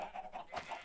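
Chickens clucking in the video game Ancient Kingdoms, a few soft, close clucks in quick succession over a quiet background.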